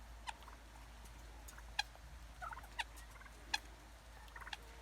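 Turkeys on a smallholding, gobbling in several short, sharp bursts spread across the clip, moderately distant over a quiet low hum.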